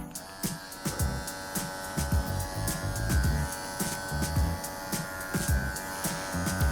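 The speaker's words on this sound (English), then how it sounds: "we're just gonna take the whole leg down with our clipper." A Wahl professional electric dog clipper fitted with a one-inch-half guard comb buzzes steadily while trimming down a dog's leg, the motor hum broken by repeated short strokes and rustling through the fur, close and clear.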